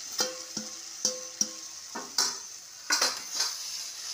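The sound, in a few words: egg added to frying spice masala in a pan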